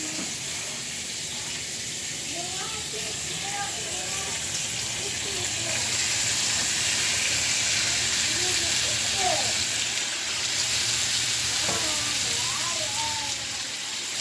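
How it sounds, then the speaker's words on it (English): Bacon frying in a pan, a steady bright sizzle and crackle throughout, with a person talking over it. "Let that bacon fry out just a little bit."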